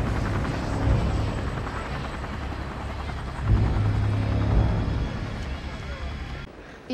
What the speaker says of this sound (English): what's with the helicopter escort?